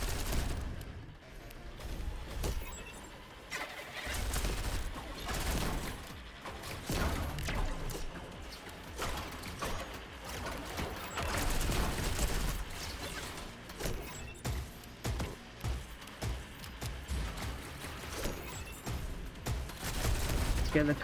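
Rapid gunfire from a powerful weapon in the fast-paced FPS roguelike Galactic Vault, dense repeated bursts of shots and impacts throughout, with a player talking over the action.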